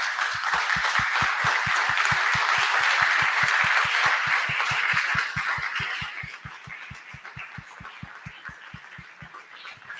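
Audience applause at an award ceremony, a steady dense wash of clapping with a regular rhythmic beat underneath, loud for the first five seconds and then fading to a thinner, quieter patter.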